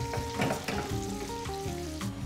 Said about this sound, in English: we're just gonna leave this for about, let's say 30 minutes at a low heat because we want the chorizo to infuse into the oil